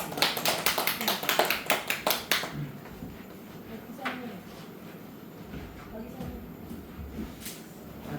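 Brief scattered applause from a small audience at a forum rises for about two seconds and quickly dies away, leaving a quiet room with faint shuffling and low voices.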